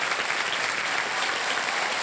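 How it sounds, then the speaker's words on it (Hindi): Studio audience on a KBC quiz show applauding a winning contestant, a dense steady patter of many hands clapping for about two seconds with no talk over it. "ताली बज जाए इनके लिए।"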